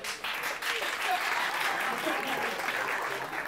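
A stand-up comedy audience applauds steadily, a dense wash of many hands clapping at once that holds for a few seconds.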